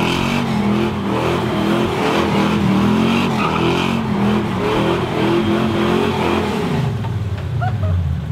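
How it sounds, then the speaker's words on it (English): A 1968 Chevrolet Camaro engine revs hard and pulls away, a loud, rough, continuous roar that rises and falls with throttle, with what sounds like brief tire squeal near the end. "today we're going to be checking out my friend's 68 Camaro, and it is brutal"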